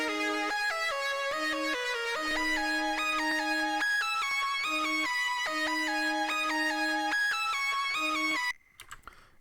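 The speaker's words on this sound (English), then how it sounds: "So for the verse, I laid down the lead and the purity strings." A lead synth and purity strings play together in an FL Studio beat, forming a steady melodic line over sustained, layered harmonies, clean and upfront, ending in a brief cutoff.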